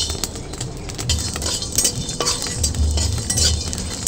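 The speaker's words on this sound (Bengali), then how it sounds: "এখানে নিচে ধনে, গোটা জিরে, এলাচ, দারচিনি, লবঙ্গ আর গোলমরিচ ভেজে নেব।" Whole coriander, cumin, cardamom, cinnamon, cloves and black pepper dry-roasting in a pan for aloo chop spice mix, with steady clinks and scrapes of a utensil stirring against the metal throughout, close and clear with no talk.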